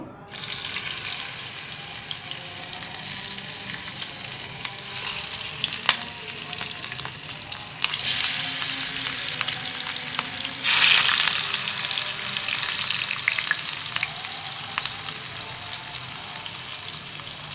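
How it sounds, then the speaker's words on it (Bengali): Hilsa fish pieces fry in hot oil in a pan, giving a continuous bright sizzle with brief louder bursts as the fish is moved, and no talking. "এখন আমি মাছগুলো ভেজে নিব।"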